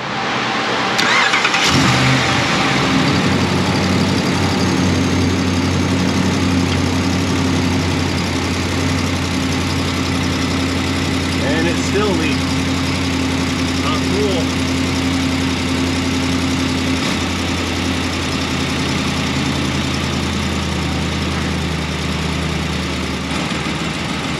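A Ram 1500 pickup with a 5.7 V8 and BBK shorty headers cranks and fires up, then settles into a loud, steady, low rumbling idle close by with an exhaust leak, continuing for over twenty seconds without talk.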